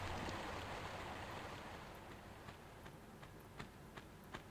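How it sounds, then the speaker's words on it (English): In the Tomb Raider 1 Remastered video game, a short looping running-water sound rushes as a steady broadband wash, loudest at first and easing slightly, with a few faint ticks scattered over it. "that incredibly short loop of running water"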